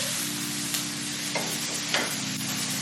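Breakfast burrito filling is stirred in a frying pan, a steady sizzle running throughout with a few scrapes and clicks of the utensil against the pan, close and with no talk.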